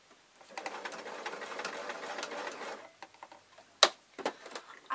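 A sewing machine stitches a unicorn soft toy, running in a steady fast whir for about three seconds, then stopping, followed by a few scattered clicks and handling knocks.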